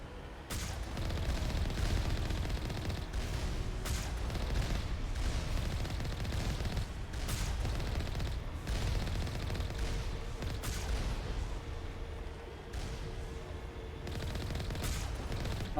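Turret guns firing in Mass Effect 1, a dense, continuous barrage of rapid shots with sharp cracks standing out above a constant loud roar of battle noise.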